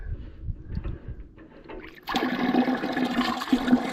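Fluid draining from a Super W6TA tractor, a quiet start giving way after about two seconds to a steady, close, gushing pour and trickle that keeps running to the end.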